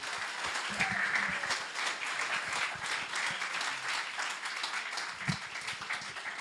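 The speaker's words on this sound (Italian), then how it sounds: "Make a strong applause if it's for God." A church congregation breaks into strong applause, a dense wash of clapping from many people that holds steady for several seconds, with occasional faint voices underneath.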